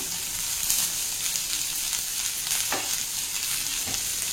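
Beans, carrot, capsicum and cabbage stir-frying over a medium flame for Schezwan fried rice: a loud, steady, close sizzle broken by a few sharp scraping stirs, with no voices.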